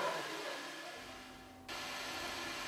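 A household vacuum cleaner powering a vacuum bazooka tube whines as a steady broadband roar; its tone shifts partway through, then carries on loud and close with no talking.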